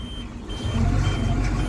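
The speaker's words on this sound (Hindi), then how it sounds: "देखिए क्रेन स्टार्ट हो गए।" A Terex RT780 80-ton rough-terrain crane starting up: a low, steady diesel engine rumble that swells and settles into a loud idle, close by with no talk.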